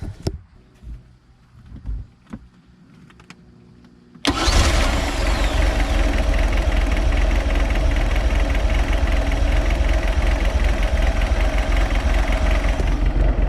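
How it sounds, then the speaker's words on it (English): A Mercruiser boat engine with a mechanical fuel pump cranks briefly after some quiet clicks, catches, and settles into a loud, steady idle that continues without a break. "let's go ahead and start the boat and see how she does."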